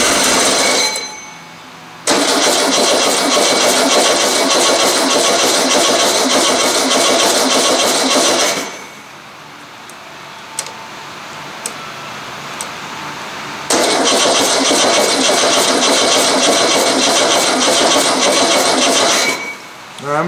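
A Volkswagen engine that has sat unused for eight years cranks over loudly with the throttle held open and ether sprayed in, in two long stretches of harsh, rapid churning, close by, with a quieter gap between.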